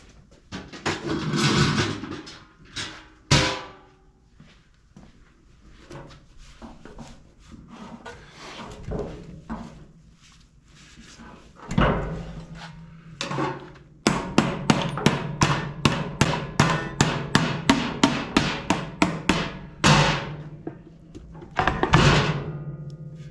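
Hammer blows bust open a seized car engine, starting as scattered heavy knocks and clangs with pauses, then turning into a long fast run of sharp, evenly spaced metallic strikes close by.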